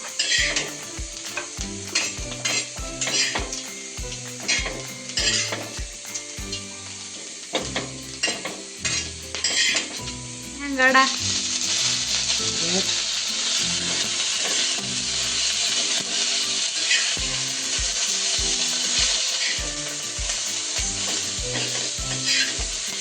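Tomatoes and black masala sizzle and fry in oil for a rustic Maharashtrian dry mutton dish, a steady loud hiss with a spoon repeatedly scraping and stirring the pan, close up and continuous.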